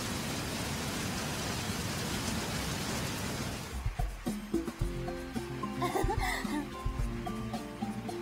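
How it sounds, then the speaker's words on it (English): Steady rain hiss for several seconds, then it fades under soft chuckling and murmuring voices with faint background music. "It's raining again."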